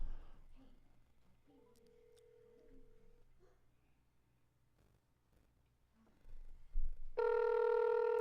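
A phone call goes out to Senator Mitch McConnell's office: quiet handling and tones lead to a short beep, then a loud, steady telephone tone rings out close at the end.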